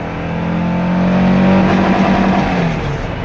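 Volkswagen Type 4 engine in a Beetle fitted with an old turbo muffler, revving up loud and throaty, swelling to a peak and briefly touching the rev limiter before easing off.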